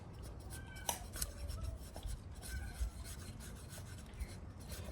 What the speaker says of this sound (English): to demonstrate how the blade would really do in a real scenario, you want to see here how it's going to feather stick